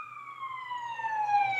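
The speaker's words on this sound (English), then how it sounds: "Ambulance is coming." An ambulance siren outside holds a steady, slowly falling wail over a faint low rumble. It is moderately loud but sounds distant, with no voices over it.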